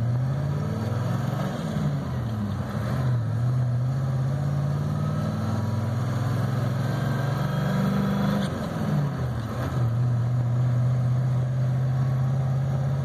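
A 1989 Ford F350 with a 7.3L IDI diesel engine pulls a camper down the road, its engine drone steady and low with gentle rises and dips in pitch as the truck shifts and changes speed, heard from inside the cab.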